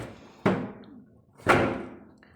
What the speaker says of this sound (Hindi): मैं अपने ये दरवाज़ा बंद करके जा रही हूँ।